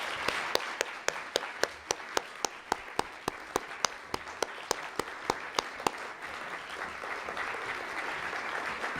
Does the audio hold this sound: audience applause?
yes